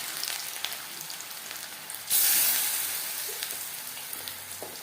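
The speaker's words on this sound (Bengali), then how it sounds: "4 চামচ রিফাইন্ড অয়েল গরম করে নিয়েছি। এবার দিয়ে দেব ম্যারিনেট করে রাখা মাছ।" Marinated fish sizzling and frying as it is added to four spoonfuls of hot refined oil, a steady hiss that jumps sharply louder as the fish goes in and then eases off, close and without talk.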